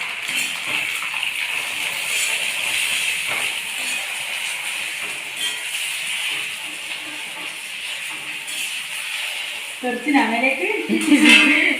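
Jackfruit chips drop into hot oil for homemade chakka chips, a steady close hiss of frying that swells into louder bubbling crackle near the end, with a voice speaking over it.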